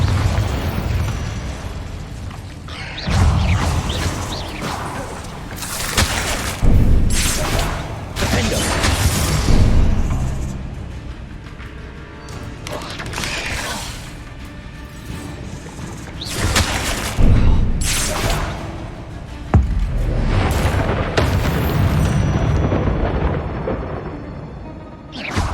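Incendio and Confringo fire spells blast repeatedly in Hogwarts Legacy, loud booming bursts and fiery whooshes hitting every few seconds over a rumbling combat background.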